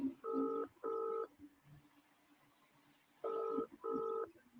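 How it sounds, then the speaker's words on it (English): Double-burst ringback tone of an outgoing phone call that goes unanswered: two pairs of steady purring rings separated by a long pause, clear and moderately loud. "I'm trying to ring him now."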